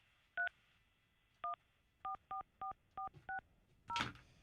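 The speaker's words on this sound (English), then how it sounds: "Oh, let me dial him up." A telephone number being dialed during a live morning radio show call-in: eight crisp DTMF keypad tones in an uneven rhythm, each short and clean, followed by a brief noisy burst at the end.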